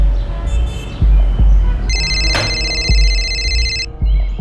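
A telephone rings with a steady electronic ringtone tone across the middle of the scene, preceded by a few soft knocks and low rumbling room noise as a call is placed.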